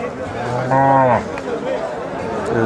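A cross-breed bull at a busy cattle market lets out a loud, close moo lasting about half a second, surrounded by the murmur of people talking and other market noise.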